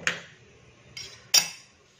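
An egg pancake is flipped in a pan: three light metallic clinks of a utensil against the pan, the last one loudest, with faint background between them.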